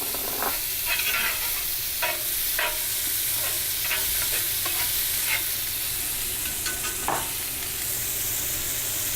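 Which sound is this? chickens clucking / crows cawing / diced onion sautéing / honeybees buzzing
diced onion sautéing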